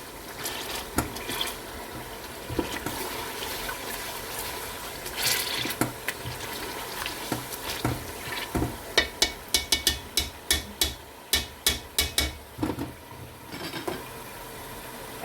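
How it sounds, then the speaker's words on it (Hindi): Tomatoes being mashed into spices in a pan for chana pulao, with a run of sharp tapping and pressing knocks that grows into a quick regular rhythm toward the end, close and moderately loud. "इसको क्विकली थोड़ा सा मैश कर लेंगे। ताकि टमाटर बिल्कुल मसाले में मिक्स हो जाए।"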